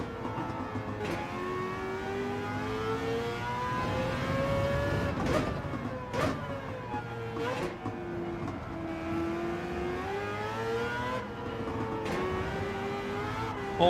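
A Dodge Viper race car engine in Gran Turismo 7 during an online race, droning loudly and continuously with rising and falling pitch as it accelerates and shifts through several gear changes.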